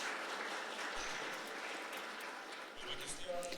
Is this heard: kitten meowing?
no